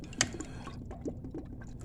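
Liquid from a bottle poured into a pot while cooking pig tails for a country-style dish over rice, a short wet splashing and gurgling stream with a few drips, close and fairly quiet.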